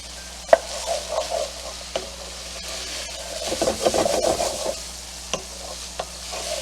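Onions stirred into a hot pan of sausage for steamed bun filling, a scraping stir and steady sizzle building in the middle, with a few sharp knocks of the utensil against the pan, close and alone.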